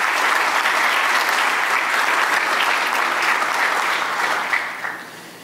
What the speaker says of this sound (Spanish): Recibimos igual con un fuerte aplauso